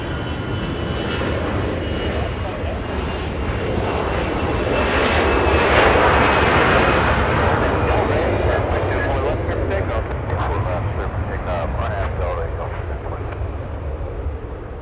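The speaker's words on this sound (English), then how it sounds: "Delta 522 flying in from Nashville, Tennessee, a 737, 900" A Delta Boeing 737-900 airliner arriving at Los Angeles International Airport roars loud and near, its jet engine rumble swelling to a peak midway and then easing off, with voices talking faintly underneath.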